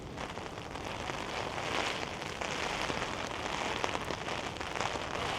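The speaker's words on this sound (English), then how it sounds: "the rain's blowing across and all my legs are wet" Rain drums steadily on a big umbrella, a dense, close patter of drops that holds evenly throughout with no voices.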